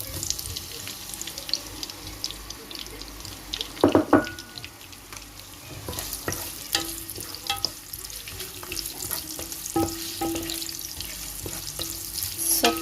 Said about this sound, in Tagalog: Let's add some oil. And let's saute the red onion.